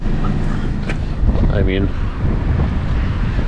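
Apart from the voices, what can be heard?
wind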